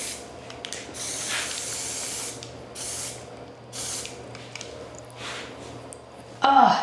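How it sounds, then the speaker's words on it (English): Repeated bursts of spray paint hissing from an aerosol can, several short and long sprays with brief gaps, close by and fairly loud. "you can use spray paint also to like kind of make things blendy"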